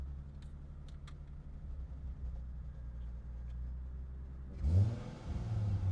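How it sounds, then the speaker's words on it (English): A Toyota Supra sports car engine idles with a low, steady rumble, then near the end revs sharply, rising in pitch and loudness. "I'm revving it. Are the revs coming in?"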